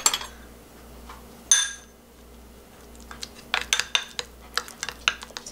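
Mustard powder being stirred with warm water in a bowl: a few sharp clinks early, then a run of quick scraping, tapping spoon strokes against the bowl, close and fairly loud, with no voices.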